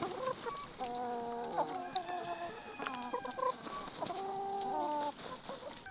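Free-range chickens kept for fertile eggs cluck and chatter, with a rooster crowing briefly. The overlapping calls sound moderately close but fairly soft outdoors, and no one speaks.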